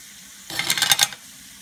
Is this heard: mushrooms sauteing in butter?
yes